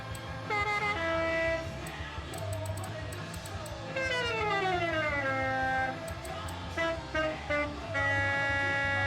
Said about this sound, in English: classic. Police siren.